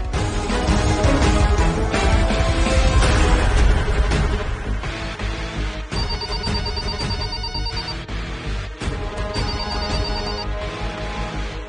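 An unanswered telephone rings on and off over a steady, loud background of music, with a brighter ringing tone standing out in two bursts.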